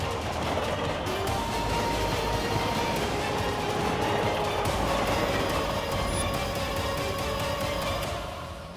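Steady rumble and clatter of a train running on rails, continuous and fairly loud throughout, with a faint whistle-like tone near the middle and no talking.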